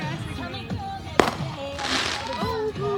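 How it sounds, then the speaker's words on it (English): Fourth of July fireworks burst with one sharp close bang and scattered crackling pops, mixed under excited children's voices and other chatter. "That is some crazy fireworks."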